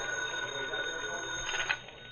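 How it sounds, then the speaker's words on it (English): An old-time radio drama telephone ringing in a newspaper city room, a steady bell-like ring holding evenly over a hiss of background noise for about two seconds with no talk. "the phone rang"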